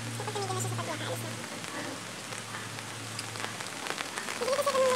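Steady rain falls outdoors in the Philippines during a rainy evening, a continuous patter on surfaces throughout, with a voice speaking over it in the background.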